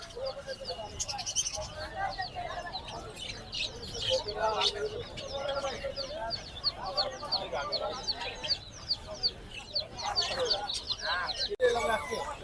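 Tiger broiler chickens cluck and chatter continuously at a busy poultry market in Hemayetpur, while nearby voices talk over the flock.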